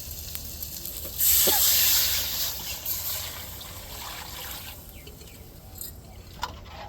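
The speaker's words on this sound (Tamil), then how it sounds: "இப்போ கரைச்சி வச்சிருக்கிற தேங்காய் பால் ரசத்தை சேர்த்துக்கிடுவோம்." Coconut milk rasam pours and trickles into a pot with a brief hissing splash, then settles into a quiet ongoing dribble.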